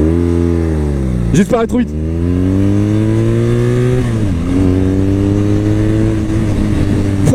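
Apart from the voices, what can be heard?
BMW R nineT Pure 2022 motorcycle engine revving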